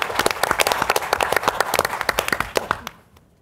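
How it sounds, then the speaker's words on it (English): An audience at a symposium panel gives a round of lively applause with dense, steady clapping that tapers off and stops at the end. "I want to take the opportunity to lead a round of applause for Cami"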